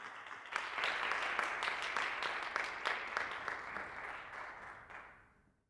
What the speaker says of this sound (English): So I don't know if you heard the applause